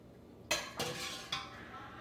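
A metal ladle clinks against glass canning jars as hot water is ladled in for bean soup: three sharp, close clinks spaced over two seconds, over a soft room hiss.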